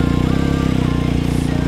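A motorcycle engine runs close by as it is started before being loaded onto a trailer, with a steady, rapid, loud idle putter that continues throughout.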